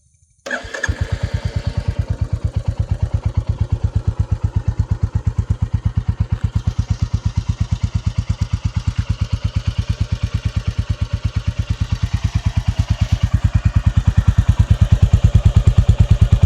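A new motorcycle's engine starts up and settles into a steady, loud, close idle with an even rapid exhaust thump, holding for about fifteen seconds and swelling slightly near the end, with no speech.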